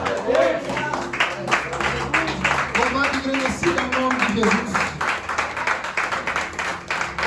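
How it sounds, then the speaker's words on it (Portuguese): Members of a congregation clap in quick rhythmic bursts during a church worship service while a voice speaks over them in prayerful praise. "Você pode sentar aplaudindo, adorando o Senhor."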